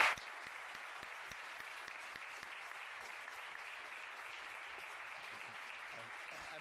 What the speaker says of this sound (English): Can you join me in thanking our panel with some applause?